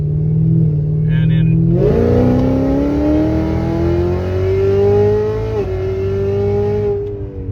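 Chevrolet Camaro ZL1 1LE fitted with an AWE Track/Touring axle-back exhaust, heard from inside the cabin in sport mode: a loud, steady engine drone that rises in pitch as it revs, with a brief dip near the end and a short voice at the start.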